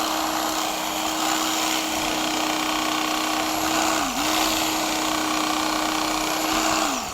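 An electric carver slicing beef shawarma cooked on a Kamado Joe rotisserie gives off a loud, steady motor whine close by, dipping briefly about halfway through and again at the end as the blade meets the meat.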